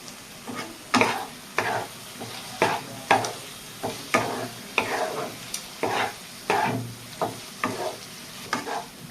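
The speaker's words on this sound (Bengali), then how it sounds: "মশলাটা কষিয়ে নেবো" Spices (red chilli powder and ground coriander) being stir-fried in a pan for a Bengali rohu fish curry with potatoes, a spatula scraping in a steady rhythm of repeated strokes over a soft sizzle, close and clear with no talking.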